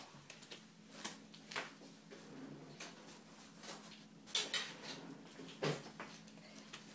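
Getting a knife from a kitchen while making a dolly cake: quiet scattered clinks of cutlery and utensils, a few soft knocks and taps, close and faint with no talking.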